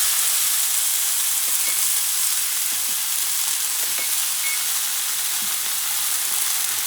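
Venison steak sears in hot duck fat in a pan turned down to medium-high, giving a steady, close, bright sizzle with small pops and crackles throughout and no voices.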